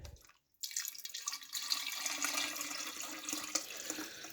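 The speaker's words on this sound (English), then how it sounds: "So I'm going to get the water right now. And again, this is distilled water." Distilled water being poured, a brief gap and then a steady, fairly quiet trickle and splash that continues with small drips, with no voices.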